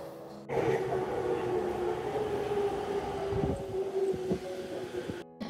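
A train at a railway station in Tokyo, heard as a steady rumbling hum with a sustained tonal whine as it runs along, moderately close, with faint clanks and no talking.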